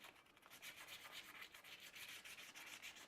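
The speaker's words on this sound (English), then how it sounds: "ASMR of aluminum sanding" Steady hand sanding of aluminum motorcycle parts in a restoration shop, a continuous rhythmic rasp with repeated back-and-forth strokes, close and fairly quiet, with no voices.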